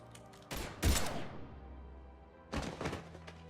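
Gunfire in the Mass Effect video game: a sudden loud burst of shots, a brief lull with a lingering tail, then a second volley of rapid reports, with no talking.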